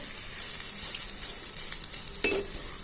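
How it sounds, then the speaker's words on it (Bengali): Mashed potato, made with red chilli, sizzling steadily in hot oil in a pan, with a constant loud fry hiss and a brief burst of scraping and louder spattering near the end. "এখন আমি আলু ভর্তাগুলো ভালো করে তেলে দিয়ে দিচ্ছি।"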